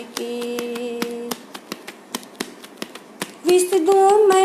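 Hands clap in a slow, steady beat along to a devotional bhajan for Mata Rani, crisp single claps spaced evenly, with a sustained tone at the start and a singing voice entering near the end.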